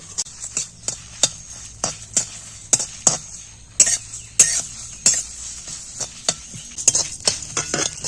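Whole spices dry-roasting over low heat in a pan, stirred with a utensil that makes sharp, regular metallic scrapes and clinks against the pan, close and fairly loud.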